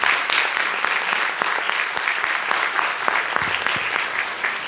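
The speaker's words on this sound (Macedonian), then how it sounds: "Дечки, еден аплауз огромен за Мија." Audience applause after a presentation on AI's impact on jobs at a Brainster event, steady loud clapping from a crowd filling the whole stretch without talk.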